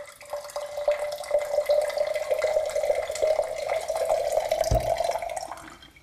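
Water trickles and drips steadily from the diverter of an UltraStream water filter into a small container, a continuous close, bright running stream with no talking.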